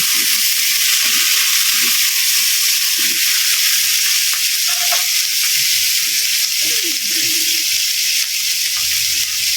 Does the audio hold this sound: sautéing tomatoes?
yes